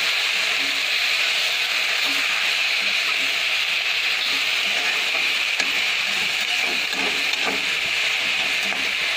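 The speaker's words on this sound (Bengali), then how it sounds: "পালং শাক রান্না হচ্ছে।" Spinach cooks in a pan with a constant loud hissing sizzle and scattered stirring clinks and scrapes, heard close up with no one talking.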